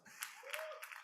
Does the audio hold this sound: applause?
yes